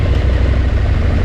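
A 2025 Husqvarna Norden 901 motorcycle on its stock exhaust idles with a steady, muted low rumble and faint mechanical clatter, close and alone.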